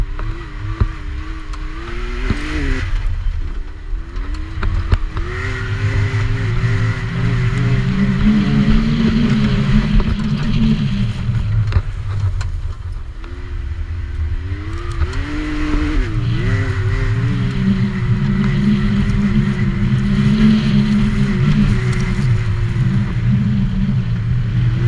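A Can-Am Maverick X3 or Polaris RZR 1000 side-by-side driving, with a loud continuous engine drone that rises and falls through revs and gear changes, heard from on board for the whole stretch.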